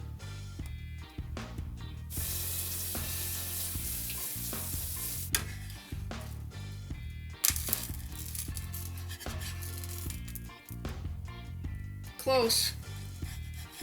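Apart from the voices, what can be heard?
blueberry pancakes sizzling in a frying pan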